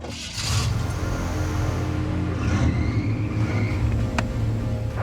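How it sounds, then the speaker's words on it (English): A car fitted with a ship turbocharger starts up and settles into a steady low engine rumble and idle, close and moderately loud, with faint background noises and no talk. "All right, starting the engine."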